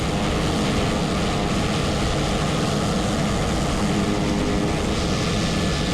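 Piper M600 turboprop engine running as power is brought up for departure, a loud steady broadband roar with a constant propeller drone that holds evenly throughout, no voices.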